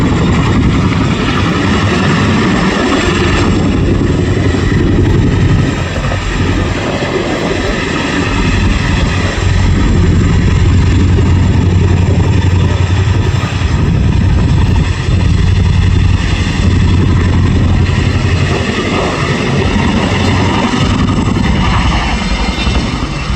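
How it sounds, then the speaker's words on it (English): A Chinook helicopter comes back in to drop an underslung load during a role demonstration at IWM Duxford Airshow, its loud, thick rotor thrum and engine roar filling the whole stretch without a break. "aircraft now returns to drop off the underslung load and complete what is called an operational drop-off"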